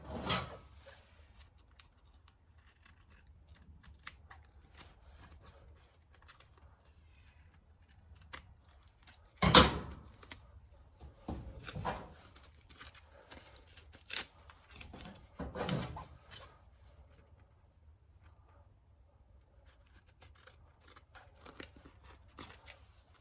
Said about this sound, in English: We're gonna cut it out with a pair of scissors